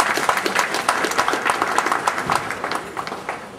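Audience members at a Nigerian community event in Cameroon applaud the organizers, a steady, crowded clapping with sharp individual hand claps standing out, moderately loud and sustained.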